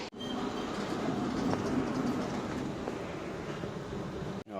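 An Istanbul metro train rolls along in a steady, loud, close rumble with rail noise throughout, broken by a brief dip near the end, and no one speaking.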